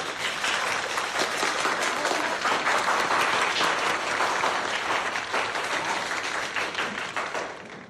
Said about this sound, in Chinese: 让我们为顾小满同学鼓掌